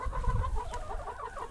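Chickens cluck steadily at close range around a mobile coop out in a field, soft overlapping calls that continue throughout without any talking.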